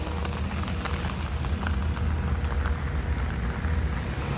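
Steady rain falling on a rainy Sunday morning during Daytona Beach Bike Week, a constant hiss of drops close by with no voices.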